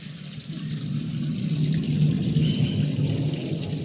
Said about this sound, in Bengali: গাছে জল দিতে হবে